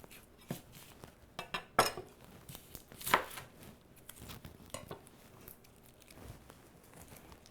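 A knife cuts a white onion in half on a cutting board, giving a few sharp chopping knocks with clinks, spaced out and close by, with no talk.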